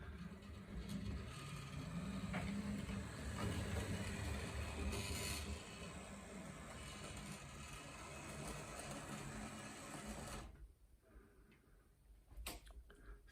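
A Rivarossi Cab Forward 4272 model locomotive with traction tyres climbs a slope, its small motor giving a steady whirring, ticking mechanical run that cuts out near the end, leaving quiet with a couple of faint clicks.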